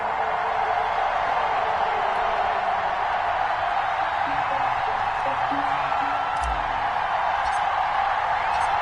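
Stadium crowd at a Las Vegas Raiders versus Kansas City Chiefs NFL football game, a steady broad roar filling the whole stretch at constant loudness with a faint low thump near the end.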